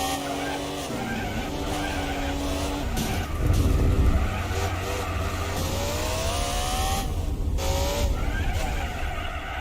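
A heavy, long-geared racing car in Gran Turismo 4 at Infineon Raceway drones steadily under engine load, its tires squealing and skidding through corners in a continuous, fairly loud stretch.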